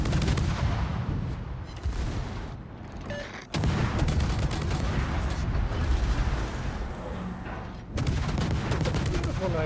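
A salvo of SAP shells booms out in a naval video game, rapid heavy cannon blasts in two loud bursts near the 3.5 and 8 second marks, followed by sustained rumbling fire and crackle under continuous mixed game noise.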